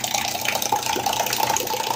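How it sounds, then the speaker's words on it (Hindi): Electric water dispenser pump fitted on a 20 liter water bottle, running steadily with a continuous close hum and the rush of water flowing through it, no talk. "देखिए कितनी आसानी से पानी को ये लिफ्ट कर रहा है।"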